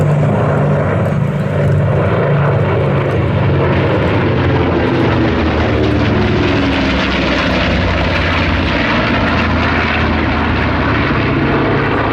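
B-25 bomber's piston engines at the Sywell airshow, a loud continuous propeller drone that swells and shifts in pitch as the aircraft passes, alone without talk.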